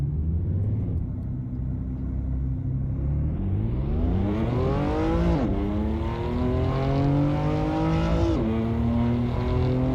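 A BMW in the racing game Assetto Corsa, its tuned exhaust droning at low revs before climbing through the gears, with two distinct upshifts breaking the rising engine note; loud, close and with no voices.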